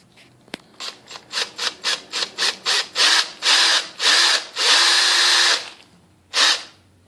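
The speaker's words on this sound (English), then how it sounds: "So I'll go ahead and drill a hole in it." A power drill drills a hole in a piece of armor in a series of short bursts that grow longer, ending in a sustained run and one final brief spin, loud and close.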